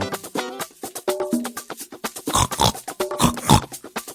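A cartoon pig in an animated Gingerbread Man fairy tale gives a loud, close string of rhythmic snorting grunts and oinks, some with a squealing, voiced tone, with no speech over them.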